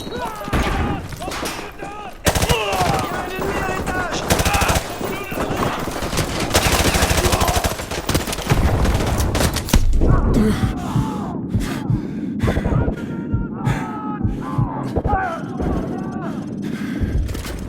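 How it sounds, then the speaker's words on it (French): Heavy gunfire in Call of Duty Modern Warfare 2 campaign combat near a school: dense, continuous bursts of automatic fire with sharp cracks and occasional booms, loud throughout, with voices shouting over the battle. "On essuie des tirs nourris depuis l'école."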